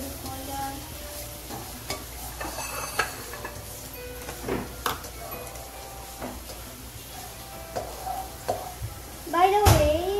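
A spoon scrapes and stirs a sizzling mixture with garlic in a pan for honey garlic buttered shrimp, with repeated clinks and scrapes over a steady fry, and a voice speaks briefly near the end.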